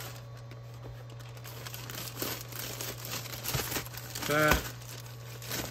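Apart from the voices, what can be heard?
putting items into a crinkly envelope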